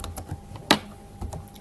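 Data is typed into a computer keyboard as a quick run of close, light key clicks, with one sharper keystroke in the middle and no talk.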